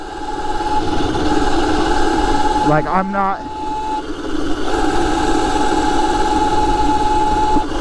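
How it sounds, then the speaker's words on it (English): A Razor Crazy Cart engine with custom casters hums steadily and loudly throughout, with a brief spoken phrase cutting in over it partway through. "my engine's humming at that point"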